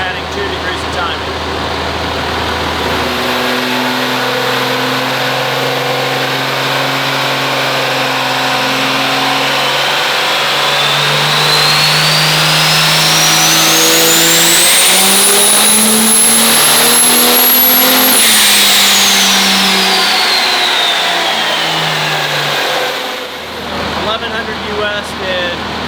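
A roughly 1,400-horsepower race car engine screams through a dyno pull, climbing steadily in pitch to a high peak near the end before dropping back to idle, loud and continuous with no talk over it.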